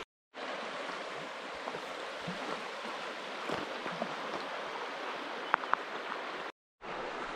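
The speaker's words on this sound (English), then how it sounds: "let me show you the river right here." Thomson Creek in Montana flows past steadily, a continuous close rushing wash of water that runs unbroken with no voices, cut briefly by two short dropouts.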